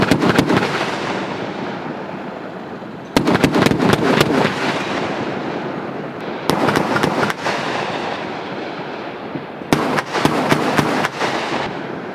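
Heavy military gunfire at an army firepower demonstration in Singapore, loud rapid bursts rolling out across open ground in several separate volleys, each followed by lingering echo and distant rumble.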